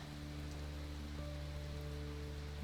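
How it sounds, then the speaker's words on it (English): Steady rain hiss falls in the WolfQuest wolf game, a continuous broadband wash with low game tones humming underneath, even and unbroken throughout. "And it's starting to rain."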